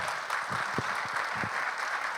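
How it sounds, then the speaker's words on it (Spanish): A conference audience claps in welcome for Dr. Eduardo García Pirimisa, a soft, fairly distant wash of applause with a few louder individual claps standing out. "Un fuerte aplauso, por favor."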